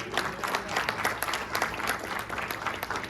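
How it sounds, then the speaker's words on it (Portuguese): A church congregation at a Christmas service applauds in praise, a dense continuous patter of many hands at steady volume for a few seconds, with no voices standing out. "Você pode dizer amém, aplaudir ao Senhor?"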